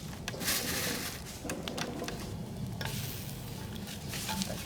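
Jengkol beans tumbling into a pot of water for boiling, a busy close splashing and clattering rush with sharp knocks early on, steady over continuous kitchen noise and no talk.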